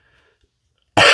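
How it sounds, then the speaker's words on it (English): A single sharp, loud cough bursts in abruptly after near silence and runs to the end, close to the microphone, from someone weighing parts for a Transformers Decepticon diorama. "excuse me, I coughed there"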